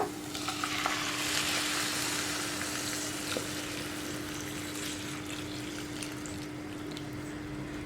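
Boiled water poured into a hot pan of coconut and semolina hisses and bubbles loudly at first, then settles into a steady, fainter sizzle; no voices.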